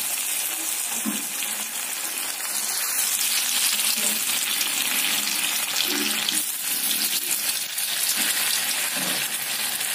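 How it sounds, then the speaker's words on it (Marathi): Alu vadi pieces frying in hot oil, a steady close sizzle with bubbling crackle running throughout, no talking. "तर त्या आपण तळून घेणार आहे तेलावर."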